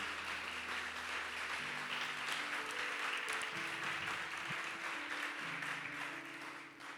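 A church congregation applauds at a service, a sustained roar of many hands clapping together, moderately distant, with faint held tones underneath and the clapping thinning toward the end.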